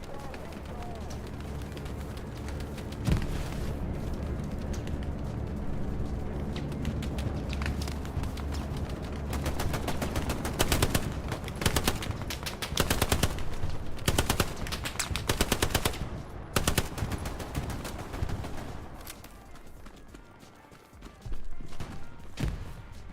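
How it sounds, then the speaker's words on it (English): Artillery and gunfire in a video game: dense, continuous bursts of rapid shots and heavy impacts that grow more intense partway through, with voices talking over the battle. "They're being very effective at taking out or suppressing our points with artillery when it's needed."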